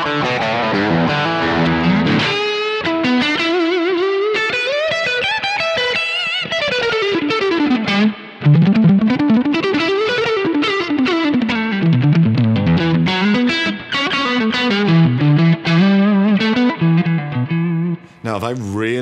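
A Stratocaster electric guitar through a Thomas Blug AMP1 Mercury Edition amp plays a loud, driven, fluid lead line with bends and fast runs, full and sustained, with a brief pause near the end.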